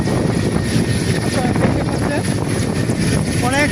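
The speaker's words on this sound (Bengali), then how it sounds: "ল্যান্ড করতে যাচ্ছে বিশাল এই হেলিকপ্টার" A big helicopter drones steadily overhead while landing on a school field, its rotor roar filling the air while people talk beneath it.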